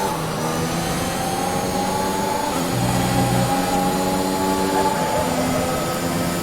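Formula 1 car engine from the F1 2021 racing game at Monza, revving loudly and steadily with shifting harmonic pitch as the car brakes into the first chicane, a continuous high-pitched whine with no voices.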